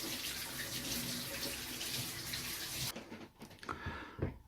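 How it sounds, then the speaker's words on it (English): Tap water runs steadily into a sink as tomatoes are washed, a loud continuous splash that cuts off abruptly, leaving a few faint drips and handling knocks. "we will wash the tomatoes."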